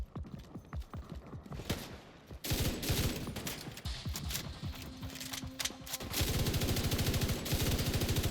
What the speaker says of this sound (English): these guys are like using bolt action fucking weapons, and they are hurting me